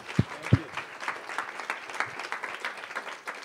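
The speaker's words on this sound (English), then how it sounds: "Give him a round of applause." Audience applause closing a university lecture, a dense patter of many hands clapping steadily for the full length after two sharp louder claps at the start, with no voices over it.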